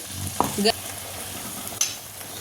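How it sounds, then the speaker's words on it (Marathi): A spoon scrapes and knocks in a pan as spicy village-style kharda chicken masala is stirred with hot water, giving a few short, close clinks and scrapes over a faint low sizzle, with no talking. "हे बघा, छान हलवून घ्यायचे आपल्याला ते।"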